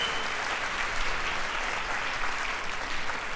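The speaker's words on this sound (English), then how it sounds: "Give her a big round of applause." Audience applause at a productivity talk, a steady wash of many hands clapping, fairly close and even, with no talk over it.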